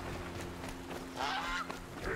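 A bird call in the open-world action game Horizon Zero Dawn, a couple of honking, goose-like cries rising over a steady low ambient hum, with no talk.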